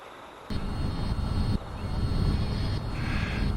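A radio-controlled model airplane flown over a farm gives a steady, close engine drone with wind rush, shifting in pitch and loudness as it passes overhead.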